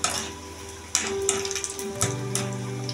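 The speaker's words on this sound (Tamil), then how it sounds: "நல்லா திருப்பி விட்டு ப்ரௌன் கலரில் வர்ற வரைக்கும் நம்ம வேக வைக்கணும்" Gram flour bonda fritters frying in hot oil, a soft continuous bubbling sizzle with a few sharper splashes and clinks as they are turned.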